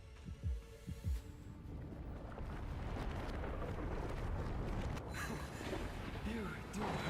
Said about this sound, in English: I don't like the heartbeat you can hear.